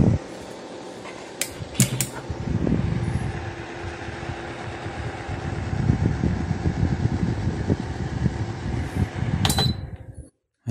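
A Lasko digital tower heater runs on its high setting, giving a steady whirring fan rush with a low rumble, close and constant, with a few clicks at the start and end.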